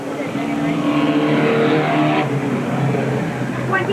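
Modified race cars run a heat race at Eugene Speedway in 1987, their engines roaring loud and steady throughout, with a crowd-like wash and a voice faintly beneath the din.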